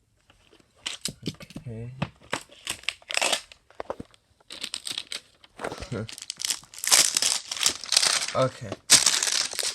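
A Piggy series 3 ultimate bundle pack being cut open and unwrapped, with loud crinkling, tearing plastic and scissor snips in bursts, close to the mic, with a voice speaking briefly in between.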